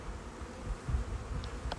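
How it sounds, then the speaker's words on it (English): Honeybees shaken from a package onto their queen at a new hive give off a steady, close, dense buzzing hum, with a few brief bumps and knocks. "So I'm going to shake these bees out right on top of their queen."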